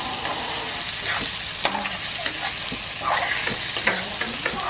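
Onions sizzle in a pan while being stirred, producing a steady hiss punctuated by repeated spatula scrapes and clicks at irregular intervals, close and fairly loud, with no speech.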